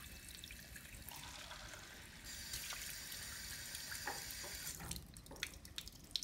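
Water streams out of a holed cup and splatters into a sink, a steady broadband rush and patter lasting throughout, with a few louder drips and splashes near the end.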